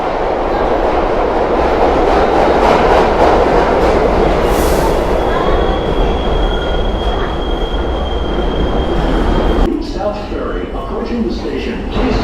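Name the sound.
subway train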